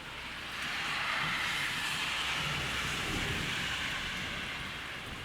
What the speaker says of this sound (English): There is a thunderstorm and I simply cannot continue filming.